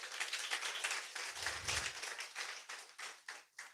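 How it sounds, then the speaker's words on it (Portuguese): A church congregation claps steadily and continuously, a dense rattle of many hands applauding, moderately loud without talk. "Você pode aplaudir o nome do Senhor Jesus."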